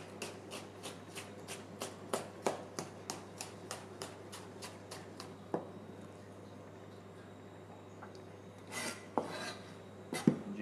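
A knife julienning a white peach on a cutting board gives a quick, even run of crisp taps for several seconds, then goes quiet before a few scattered, louder knocks near the end.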